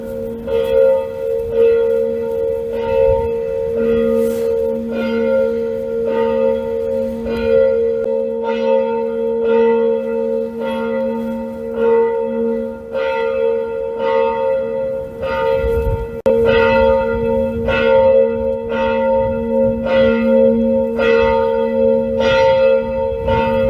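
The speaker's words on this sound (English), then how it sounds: "Can you hear these bells?" Church bells ringing in Wroclaw, Poland, a sustained loud peal of repeated strikes over a humming resonance that continues steadily throughout, with no voices.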